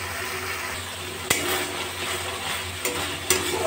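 Potol dab malai being stirred in a pan, with a constant sizzle underneath and a few sharp clinks of the spoon against the pan at intervals.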